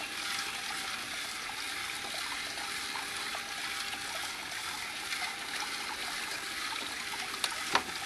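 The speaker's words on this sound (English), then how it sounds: "Just turn the water up just a little bit." Water runs steadily through a hose or sluice setup as the flow is turned up slightly, a continuous broadband rush with faint trickling and a brief splash near the end, with no talk.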